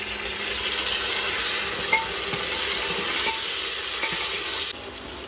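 Chopped tomatoes going into raw onions frying in a pan for matar paneer pulao, giving a steady, even sizzle with faint stirring clinks throughout and no speech.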